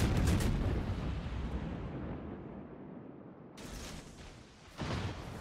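Naval gunfire from enemy ships in the World of Warships game: deep booming salvos with long, rolling decays. A heavy blast opens, and further shots land near the middle and close to the end.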